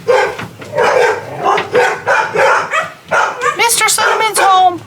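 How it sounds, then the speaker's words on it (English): Several dogs bark and yip repeatedly as someone comes home, with a rapid run of sharp barks and a whimper, close and loud, mixed with a person talking. "They should stop barking now"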